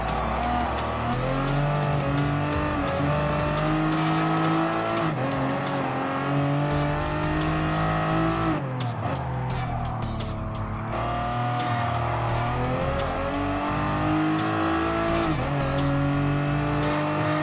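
Race cars in Gran Turismo Sport roar through a final lap, engines revving and shifting continuously with loud, sustained motor drone and occasional tire squeal, no voices over it.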